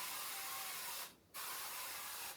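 Canola oil cooking spray hissing into a 3-quart casserole dish, a steady close spray with one brief pause before a second burst.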